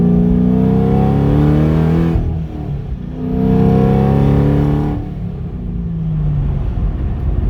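A Corvette Z06 with an LS3 engine and open mufflers revs loud and close in several rising surges with brief dips between them.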